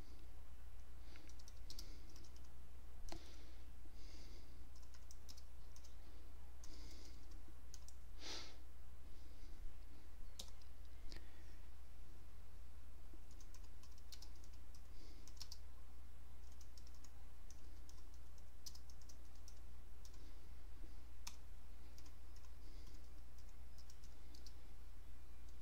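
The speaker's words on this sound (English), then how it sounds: "We're going to go ahead and type in what we want to show here." Keystrokes on a computer keyboard typing into a text editor, a steady stream of light clicks and taps at close range over a low constant hum, with no talking.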